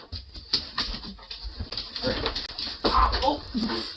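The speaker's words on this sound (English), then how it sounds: "Oh! You goofy dog." A pet dog whimpers and pants close by, with soft whines and rapid breaths, broken by small thumps and rustling, with faint voices in the background.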